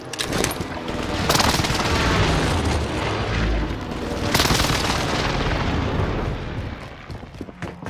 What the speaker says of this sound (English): Airstrike mission en route. This is Phoenix 3. Strike inbound.